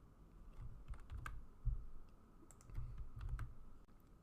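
Keys clatter on a computer keyboard while Excel shortcuts such as cut and paste are entered, a quiet, irregular run of soft clicks and taps with a few sharper strokes, close by and with no voice over it.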